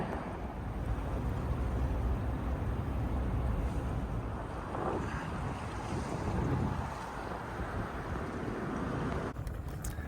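A sailing yacht underway on the River Thames, heard as continuous wind buffeting and rushing water around the hull, steady and fairly quiet, with no voices.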